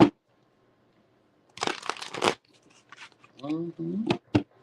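Tarot cards are shuffled in two quick rustling bursts, close and crisp, followed by someone speaking and a couple of sharp card snaps.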